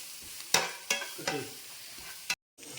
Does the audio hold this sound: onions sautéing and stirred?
yes